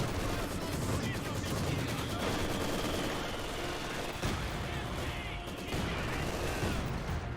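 Chattering MG42 machine gun fire in a Company of Heroes 2 battle, a dense continuous rattle mixed with other gunfire and explosions throughout, with a voice talking over it.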